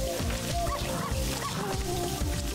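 In the Neighbours from Hell game, a dog barks at an elephant, with repeated yapping barks over busy background game music.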